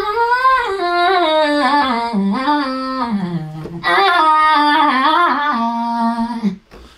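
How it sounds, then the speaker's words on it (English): A sung vocal line with bright, pitched syllables plays in two phrases, separated by a short cut, ending abruptly. "there is this vocal chop right here"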